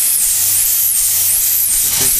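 Steam hisses loudly and continuously from a Port Huron steam engine, a close, bright rushing jet with a faint whistling edge over a low mechanical rumble.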